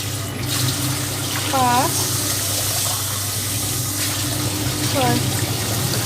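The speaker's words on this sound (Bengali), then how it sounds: "ওই কাপে মেপে মেপে ডিরেক্টলি কল থেকেই জল দিচ্ছি।" Tap water runs from a kitchen faucet into a measuring cup, a steady close rush of water throughout, while a person speaks over it.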